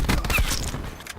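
Gunfire in the shooter Black Ops 4 rings out as a quick burst of close, loud shots with a booming low end, then tails off into quieter game noise.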